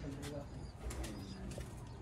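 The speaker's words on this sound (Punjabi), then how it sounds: "ਇਹ ਜੇ ਚੈਂਪੀਅਨ ਸਿਆਲਕੋਟੀ ਕਾਲੇ ਮੂੰਹ ਵਾਲੇ ਕਬੂਤਰ" Champion Sialkoti black-faced pigeons coo softly in a brief, faint stretch against steady background noise.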